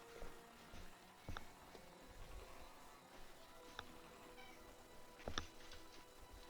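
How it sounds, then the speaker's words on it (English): A house cat meows faintly in an apartment, a few short calls spaced apart over low background noise and light clicks. "he was meow, meow, meow, meow, meow, meow, meow, and other such sounds"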